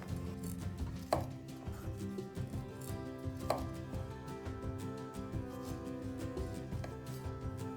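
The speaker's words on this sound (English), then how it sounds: "I think the easiest way to cut a pepper is just around the core and just go straight down" A knife cutting a bell pepper around the core for ratatouille, a few distinct chops landing on a cutting board amid steady low background hum, close and without talk.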